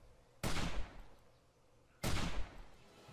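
Two loud gunshot blasts in the 7 Days to Die video game (Alpha 16.3 with Valmod), spaced about a second and a half apart, each with a long ringing decay.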